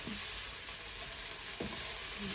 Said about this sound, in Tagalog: Sige, halo mo pa, girl, para maluto yung potato